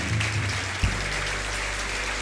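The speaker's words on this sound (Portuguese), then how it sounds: "Vamos aplaudir nosso Deus" A church congregation applauding during a worship service, a brief burst of clapping with a low hum and a single thump underneath.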